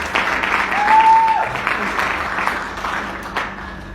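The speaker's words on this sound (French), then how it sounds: "Est-ce qu'on peut l'acclamer? Can we put our hands together?" An audience applauds for a visiting Reverend, steady full clapping from a crowd that swells in the first second or so and then slowly fades, with a voice briefly audible over it.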